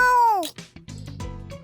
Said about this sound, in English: I turned towards the sound of cats meowing.